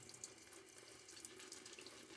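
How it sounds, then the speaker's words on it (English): Water runs from a tap onto a shaving brush in a sink, a soft, steady trickling splash, faint and close, with no speech. "some water on the brush here,"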